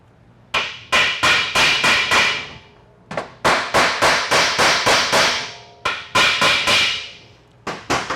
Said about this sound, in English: One is you tap the case while you pull on the pump stator